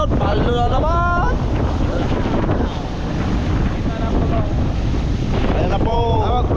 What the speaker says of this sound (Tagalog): malaking alon, tatlong nakasunod-sunod